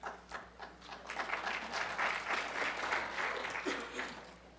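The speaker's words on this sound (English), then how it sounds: "I can tell my wife you guys applaud for me" Applause from the audience at a homelessness policy conference: a steady wash of many hands clapping, fairly distant and moderate in level, rising then holding for several seconds.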